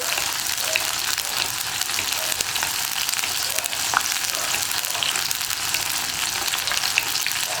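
Onions frying in a pan for vegetable mappas, a steady close hiss and crackle that continues without a break, with no voices.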